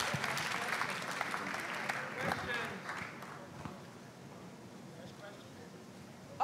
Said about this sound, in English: Big applause to Jim Rosenquist.